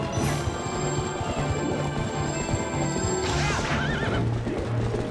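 In Zelda: Twilight Princess, a horse whinnies loudly amid a battle, with galloping hooves, crashing hits and game music underneath.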